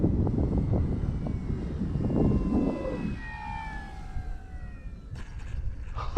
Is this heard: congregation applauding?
no